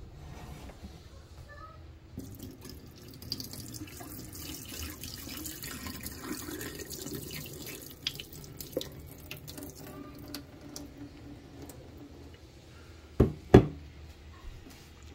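Tap water runs into a kitchen sink to rinse an egg that has soaked 24 hours in vinegar, a steady close wash with a couple of sharp knocks near the end.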